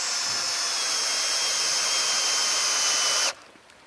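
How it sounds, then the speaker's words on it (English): A power drill bores a large-diameter hole into a tree trunk for installing a support cable, a loud steady high whine running for over three seconds before cutting off abruptly. "And now we start drilling."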